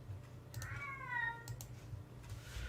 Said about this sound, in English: Oh God, my cat's going crazy.